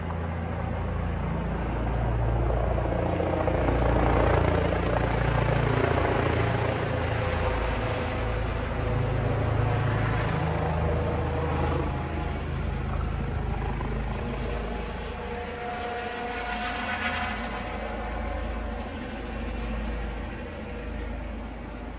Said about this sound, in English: I can still hear the helicopter flying.